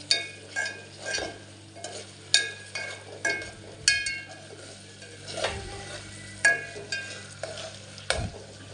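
Onion, black pepper and mace being stirred in a pan for masala rice, a soft sizzle under repeated clinks and scrapes of a spoon against the metal, close and fairly quiet.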